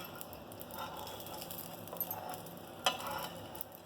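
An omelette frying over a low gas flame gives a soft, steady sizzle, with a faint scrape of a utensil near the end.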